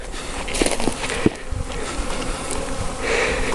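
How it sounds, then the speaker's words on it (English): Overwintered honeybees that have just broken cluster in late February buzz around the hive, a dense steady hum with a few louder bees passing close. "I'm checking on my bees. You can hear them buzzing."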